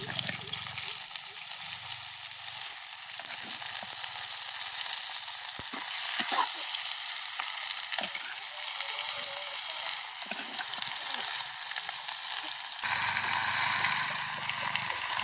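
One kilogram of game meat sizzles and fries in a pan in a village kitchen, a dense continuous crackle with occasional scraping stirs and clinks, close and steady throughout.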